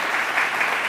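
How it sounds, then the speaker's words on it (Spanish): Audience applause at a culinary startup prize final, a brief, dense and loud burst of clapping from a crowd filling the whole moment. "Yo creo que te vamos a dar un aplauso"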